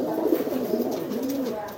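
Low, throaty cooing comes from a domestic breeding pigeon sitting on eggs, a couple of rolling murmured phrases heard close up.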